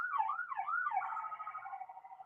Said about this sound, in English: I don't know if you guys can hear that siren, but he finally just went past my window.